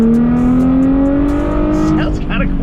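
A donated Ferrari's engine pulls under acceleration, its exhaust giving a clean, steady tone that rises slowly in pitch, loud and close from inside the car, with light interior rattles and a brief pitch sweep near the end.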